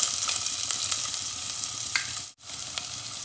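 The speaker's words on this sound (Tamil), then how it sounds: "இது ரெண்டையும் சேர்த்து நல்லா 2 நிமிஷம் வதக்கிக்கோங்க." Onion and curry leaves sauté in hot oil for Chettinad mushroom chukka, a close, bright, crackling sizzle with light stirring ticks, briefly cutting out for a moment before resuming.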